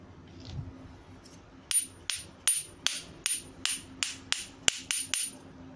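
A Japanese ball-peen hammer is tapped about a dozen times in a steady rhythm, each close strike giving a sharp metallic click followed by a clear, high ringing tone that decays quickly.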